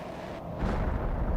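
A muffled explosion booms in the survival video game Planet Crafter, a rough, rumbling burst that swells and lingers at moderate loudness, heard alone without talk.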